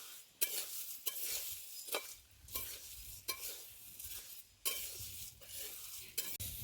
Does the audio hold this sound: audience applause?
no